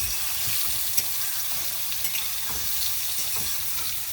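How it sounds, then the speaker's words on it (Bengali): Soybean chunks marinated in turmeric and salt frying in a pan outdoors in the Sundarbans, a steady close sizzle with occasional small crackles and stirring, no talk. "আমাদের কিন্তু সয়াবিন ভাজা হয়ে গেছে"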